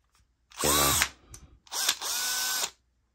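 A cordless drill whirs in two short bursts, the first spinning up and winding down, then a brief pause before a second steady run, close and loud.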